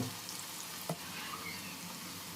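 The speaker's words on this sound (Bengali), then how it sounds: "তেলটা ভালো করে গরম করে এর মধ্যে আলু দিয়ে দিচ্ছি আলুটা ভালোভাবে ভেজে নিতে হবে" Potatoes with turmeric fry in hot oil in a pan, giving a steady, soft sizzling hiss throughout, with one brief clink partway and no talking.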